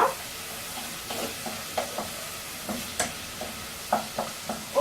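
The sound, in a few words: stirring arrabbiata sauce in a pan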